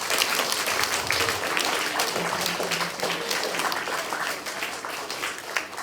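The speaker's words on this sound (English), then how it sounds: "Can we give Indy a round of applause, please?" A school assembly audience claps for a student called to the front, a steady, dense round of applause from a full room that carries on for several seconds at an even level.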